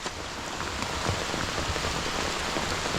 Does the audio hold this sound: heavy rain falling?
yes